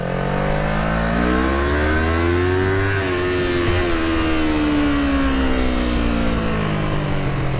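A 1999 Kawasaki Ninja 250 motorcycle ridden at close range, its engine droning loud and steady, pitch climbing, dipping briefly near the middle, then holding high and continuous with wind rush.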